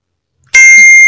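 A single bright bell ding rings out after a moment of silence, its clear metallic tone sustaining and ringing on to the end.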